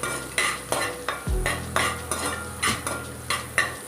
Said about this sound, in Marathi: बटर आपलं वितळलं की याच्यामध्ये जाणार आहे अद्रक आणि लसूणचे तुकडे। ह्यालाही छान आपण मस्तपैकी भाजून घेणार आहोत।